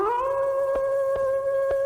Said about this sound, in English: They say it's the cry of the hound of the Baskervilles, seeking its prey.